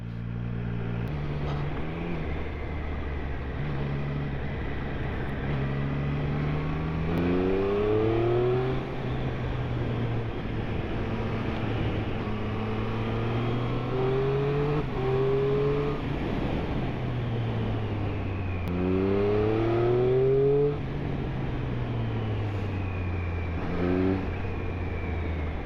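A 2023 Triumph Street Triple RS motorcycle engine accelerates hard through several quick upshifts, its revs climbing and dropping repeatedly in a loud, close, rising howl.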